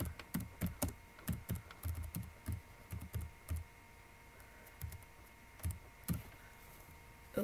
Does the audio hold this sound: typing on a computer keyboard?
yes